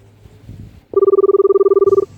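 A steady two-tone telephone tone sounds continuously for about a second after faint background noise, cutting off abruptly as a call is placed.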